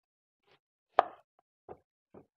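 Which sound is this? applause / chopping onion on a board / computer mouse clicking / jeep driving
chopping onion on a board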